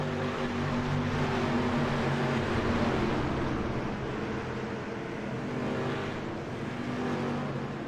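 Dirt street stock race cars roar down the backstretch of a short track oval, a dense continuous engine drone with rising and falling revs, loud and fairly close throughout.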